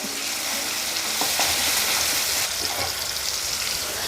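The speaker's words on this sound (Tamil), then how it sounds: "தக்காளி நல்லா வதங்கட்டும்" Tomatoes sauté in a hot pan for a spicy greens kara kuzhambu, giving a loud, continuous hiss and sizzle with occasional stirring scrapes, heard up close without talking.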